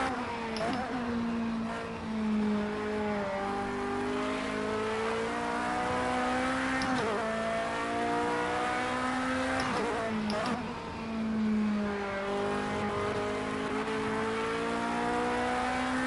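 A race car engine in the video game Project Cars 2 revs hard on track, climbing in pitch and then dropping sharply at each gear shift, several shift cycles in a row, loud and continuous with faint tire noise.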